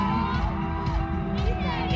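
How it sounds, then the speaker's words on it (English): Crowd noise at a K-pop performance: cheers and whoops from the audience keep rising over a heavy, steady music beat throughout. "I like this crowd too"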